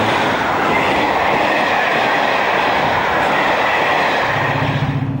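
A Class 55 Deltic diesel locomotive, 55018 Ballymoss, rolls into Doncaster station in 1980 with a semi-fast train, a loud, steady rumble of engine and wheels passing close by, with a low drone emerging near the end.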